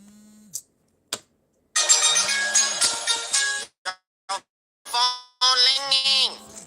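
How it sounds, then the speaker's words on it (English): A phone ringtone plays in loud bursts of bright, melodic tones that start and stop repeatedly, broken by short gaps and brief tonal blips. "Your phone ringing."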